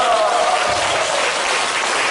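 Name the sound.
congregation applause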